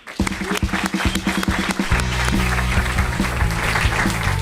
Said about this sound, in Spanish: un público maravilloso que nos acompaña con su aplauso